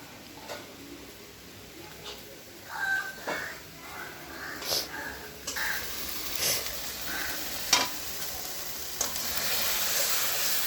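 Water splashed into spices frying in oil in a pot over a clay stove for a spicy chicken curry, giving a bursting sizzle and hiss that swells and crackles in surges, with stirring knocks and faint background voice.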